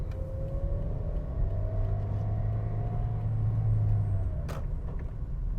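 A car engine pulls away from traffic lights, heard from inside as a steady low rumble with a gentle rising and falling whine, ending with a brief sharp click.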